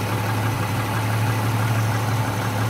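A car engine idling during a generator output test, giving a steady, close, even low hum with a constant mechanical drone and no talk over it.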